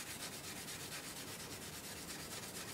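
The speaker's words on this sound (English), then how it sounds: "I don't know what grade sandpaper I was using" Sandpaper rubbing over a metal airsoft part, a steady, faint, continuous scratchy rasp with even back-and-forth strokes.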